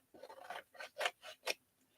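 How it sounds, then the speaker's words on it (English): Scissors snip through the paper flap of an altered book in a quiet craft setting, a few rustling cuts building to three or four crisp, distinct snips close by, with no talking. "Let me cut this flap off of here."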